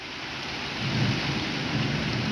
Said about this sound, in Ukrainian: На дворі дощик лиє